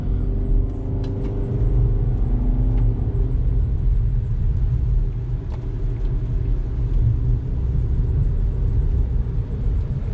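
A 2014-2020 Nissan Rogue drives and pulls back in after a front brake pad change, giving a steady low engine and road rumble throughout with faint higher-pitched squeaks and ticks over it.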